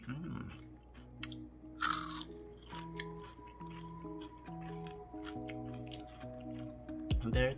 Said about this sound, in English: Very crispy and delicious. Super crispy.